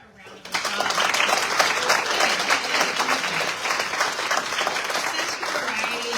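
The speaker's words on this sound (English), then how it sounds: "Let's give them a round of applause." Sustained applause from an audience at a Greater Macon Chamber of Commerce panel event, beginning abruptly after a half-second and holding steady and dense throughout.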